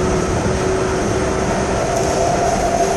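Train rolling on rails through a Miami-area metro line, a steady loud rumble with a faint tonal whine from the wheels, continuous throughout with no talking.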